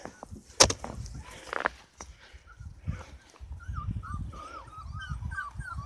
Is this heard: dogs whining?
yes